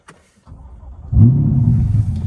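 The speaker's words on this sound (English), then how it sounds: "So now we'll go ahead and start the car." A 2022 Chevrolet Corvette C8 engine cranks and catches, then settles into a deep, steady idle rumble, close and fairly loud, with no talking.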